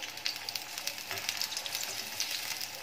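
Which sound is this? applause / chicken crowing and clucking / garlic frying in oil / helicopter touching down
garlic frying in oil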